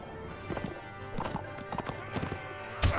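Horse hooves clip-clop in the Mount & Blade: Warband video game, a steady rapid galloping patter under continuous game music and ambience, with a sharp louder hit near the end.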